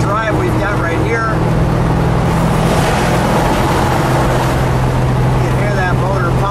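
A 1969 AMC Hurst SC/Rambler's engine drones steadily and loudly from inside the car on an Arizona drive, a constant low rumble with voices talking over it.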